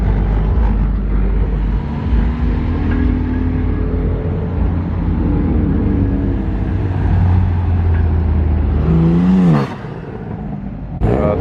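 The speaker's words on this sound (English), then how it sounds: "Got some cars pulling in and some cars pulling out." Cars pulling in and out of a busy car meet where BRZs, Supras and an R32 GTR gather, a steady mix of idling and revving engines close by, with one car accelerating away loudly near the end.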